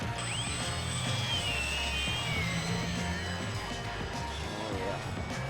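An E-flite UMX Draco micro RC plane on a 3S battery whines overhead outdoors, its high-pitched motor steadily rising and falling in pitch as it passes, with wind noise and some faint voices underneath.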